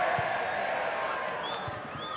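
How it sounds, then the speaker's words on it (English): A large football crowd roars steadily at a Potters Bar Town v Barnet FC match, a dense wash of cheering voices with a few whistles rising above it. "See straight away the crowd lift, and you know, the noise levels go that little bit higher."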